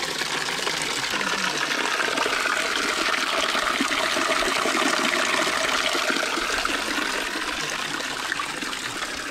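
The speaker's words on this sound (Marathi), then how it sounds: "इथे गोमुखातनं पाणी पडतं" Cold spring water pours steadily from a stone cow-mouth spout at an old temple in Asud, Dapoli, making a continuous splashing gush that is fairly near and without pause.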